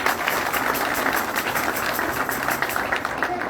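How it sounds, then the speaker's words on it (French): An audience at a ceremony handing the national flag to Senegal's Lions football team applauds the team captain. The clapping is dense and steady throughout, close and fairly loud. "On l'applaudit très fort"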